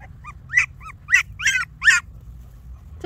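A chihuahua puppy gives a series of thin, high whimpers and yips, about six short cries rising and falling in quick succession, close and clear over a low background rumble.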